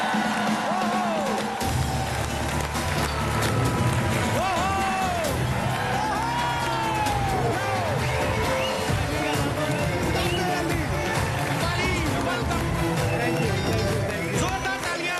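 Studio audience on a comedy talk show cheers and whoops to welcome cricketer Wasim Akram, a loud, sustained crowd roar with applause and music running throughout, voices shouting over it.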